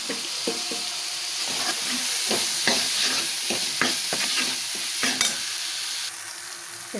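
Spices and peas sautéing in oil in a pan for paneer bhurji, a close, steady sizzle broken by repeated scraping and stirring strokes of a spoon.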